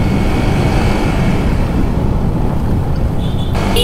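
Loud, steady road roar with rushing wind as vehicles speed past and overtake one another on a Gazipur road during a Honda CBR 150R ride, a continuous broadband wash without pauses.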